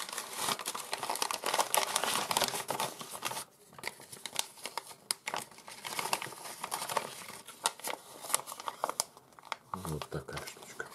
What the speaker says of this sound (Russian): Положим обратно в zip-пакетик